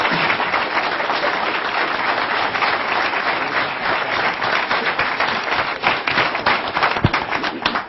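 An audience at a university system Board of Regents meeting gives a sustained round of applause for the system president, dense even clapping from many hands filling the room and continuing evenly throughout.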